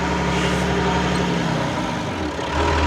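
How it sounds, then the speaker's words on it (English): A tractor engine drives onto a lorry, a loud, steady low diesel drone that holds close, dips briefly, then rises again. "I get both tractors onto the lorry"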